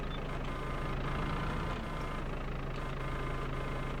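A vehicle engine in Farming Simulator 22 drones steadily at a low idle-like hum throughout, faint and constant with no talk over it.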